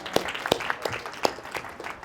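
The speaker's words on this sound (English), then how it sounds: "So let's give a big round of applause for Tara." A small group claps for a guest on a diet and gentle-exercise interview show. A handful of sharp, separate claps come at uneven intervals, fairly faint and thin rather than a full ovation.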